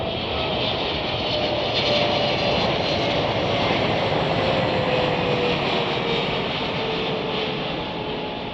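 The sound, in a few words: Turkish Airlines jet airliner at Chicago O'Hare Airport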